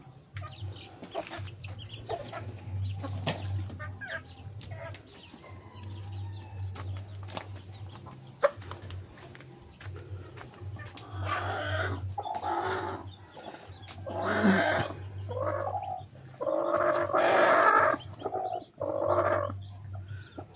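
Newly hatched chicks and adult chickens on a small farm, a steady low hum underneath, with bursts of clucking and rooster-like calls growing louder and more frequent in the second half.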